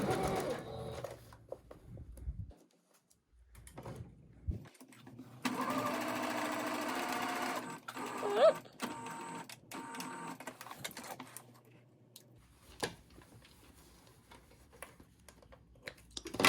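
A sewing machine stitches a hem on a thrifted garment in quick, whirring bursts, stopping and starting several times with short pauses between runs.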